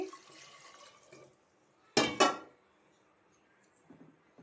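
Water poured into a pot for boiling jackfruit seeds with salt, a short splashing gush lasting about half a second amid quiet kitchen sounds, with faint handling noises before and after.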